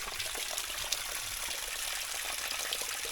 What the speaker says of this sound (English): there's like a waterfall flowing underneath